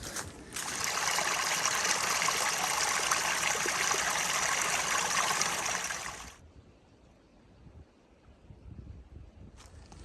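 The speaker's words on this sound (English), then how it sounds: "It was Reed Creek. That's a water source down in there." Reed Creek runs below an Appalachian Trail path, and its steady rushing water fills the first six seconds. It then drops abruptly to a faint, distant trickle with light wind.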